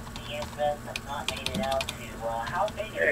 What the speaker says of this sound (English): Let me put in the correct password.